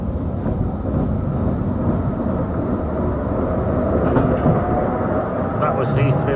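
A tram rolling between Fleetwood and Starr Gate in 2022, heard from inside as a loud, steady low rumble with faint rail clatter and a few brief higher squeals and clicks toward the end, with no talk.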